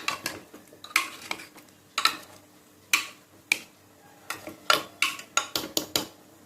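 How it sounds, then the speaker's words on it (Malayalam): A utensil scrapes and clinks against a metal pressure cooker pot in irregular strokes while stirring, close up and fairly loud, with no talking. "പിന്നെ ഒന്ന് ഇളക്കി വിടണം"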